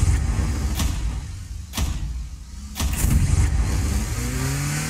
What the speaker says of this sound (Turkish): Bizim arabamız Audi TT bu arada.